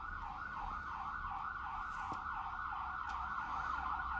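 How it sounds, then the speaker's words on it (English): A fire truck siren wails steadily in the distance, its tone sweeping up and down in a fast, even cycle, faint but continuous with no voices over it. "No, that's a fire truck."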